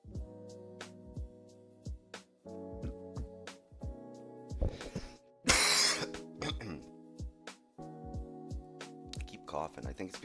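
Repeated coughing fits close up, several harsh coughs in a row with throat clearing, mixed with someone talking over a faint tonal background.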